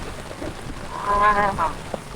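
Steady outdoor rain hisses evenly throughout, with a brief tonal, voice-like call rising midway and a soft knock near the end.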